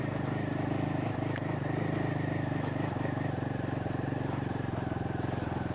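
A Royal Enfield Himalayan motorcycle riding over gravel, its single-cylinder engine holding a steady drone close by with faint crunch and clatter from the loose surface.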